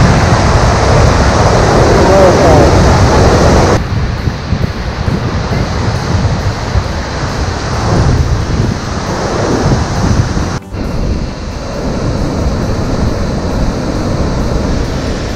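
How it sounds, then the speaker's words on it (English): Broad, roaring rush of an Icelandic waterfall with mist, wind buffeting the microphone throughout; loud and continuous, the roar eases slightly after a few seconds and a brief dropout comes near the end. "Waterfall is amazing."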